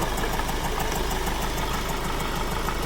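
A Hyundai Verna fluidic diesel engine idles close up with a steady, even clatter and rhythmic knock, loud and unbroken, no voices.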